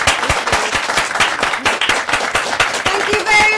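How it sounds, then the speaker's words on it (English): An audience at a business club event breaks into applause, with distinct, fairly close claps in an uneven rhythm from a modest crowd lasting a few seconds while a voice speaks over it. "I just want to give a big round of applause to Sarah Begum."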